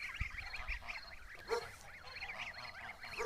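A flock of Kholmogory goslings walking home keeps up a busy, overlapping chorus of high, wavering peeps at close range, with a few soft thumps underneath.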